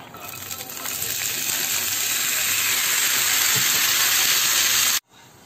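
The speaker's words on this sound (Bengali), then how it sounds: "ডিম ভাজার কড়াইতে ডাবলিগুলো দিয়ে দিই" Chickpeas drop into a hot egg-frying pan and fry with a loud, steady hissing sizzle lasting several seconds before cutting off abruptly.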